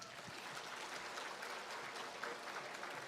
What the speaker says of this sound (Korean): 자, 세종대왕 위해서 박수 한번 쳐줘봐.